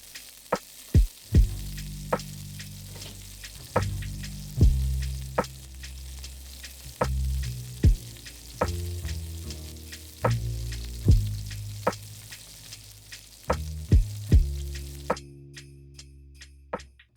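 Fish sizzles in a pan of grapeseed oil and butter, a steady frying hiss broken by repeated sharp clinks and taps of a utensil, close up with no voices.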